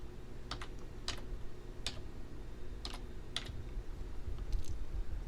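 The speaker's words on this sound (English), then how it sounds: "We're going to go to search and we're going to type in regedit." Typing on a computer keyboard in a quiet room, a handful of crisp, separate key clicks spaced irregularly over a low background hum.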